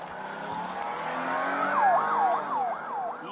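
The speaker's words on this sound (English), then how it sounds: "she slammed the car into gear and took off" A stolen patrol car speeds away, its engine roaring with rising tire squeal while a siren wails in repeated up-and-down sweeps over the steady vehicle noise.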